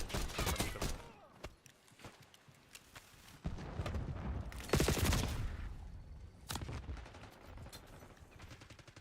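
Gunfire from a Black Ops 6 beta multiplayer match rings out in scattered bursts and single shots, some sharp and close, others more distant, with no talk over it.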